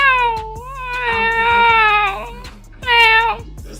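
A person imitates a cat, voicing drawn-out, wavering meows up close: one long rising-and-falling call followed by a shorter one.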